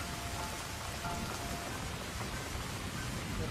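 Heavy rain in the video game The Cat Lady, a dense, unbroken hiss of downpour with a faint low rumble beneath, steady and loud throughout with no speech.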